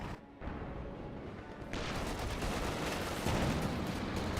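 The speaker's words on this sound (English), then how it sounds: "Panzer IV firing away." A Panzer IV tank fires amid battle in the video game Company of Heroes 2; the din of shots and booms swells abruptly partway through and holds loud and dense to the end.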